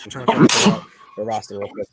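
A single sharp sneeze bursts out near the start, followed by someone talking at close range during a livestream of an NFL game.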